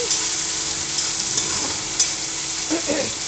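Onions, tomato and green chili cooking in a pan, a continuous close sizzle with a few soft stirring scrapes and clicks over a few seconds.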